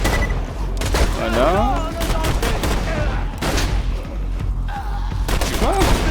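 Gunfire in the video game Borderlands 2 bursts in rapid volleys under a voice, with game effects and music mixed in.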